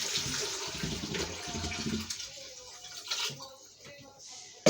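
Water runs and splashes into a couscous pot holding chickpeas and chicken, a steady close pour that fades toward the end, with someone talking over it.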